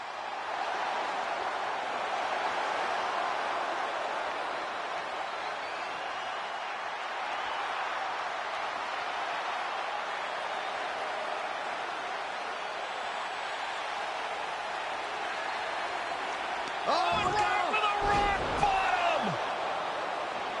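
Steady roar of a large WrestleMania arena crowd in the WWE 2K25 wrestling video game, a continuous wash of cheering that swells briefly near the end with sharper impact-like bursts.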